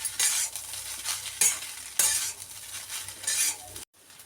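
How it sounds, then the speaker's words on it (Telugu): Egg fried rice with pepper powder and salt is stirred in a pan, with a crisp sizzle and repeated scraping strokes of a spoon against the metal. It cuts off abruptly at the end. "బాగా మిక్స్ చేసుకోవాలండి రైస్."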